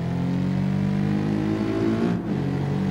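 A car engine revs hard at a race start in BeamNG.drive, a loud, steady droning roar that climbs in pitch and dips briefly near the end as the gear changes, with no voices.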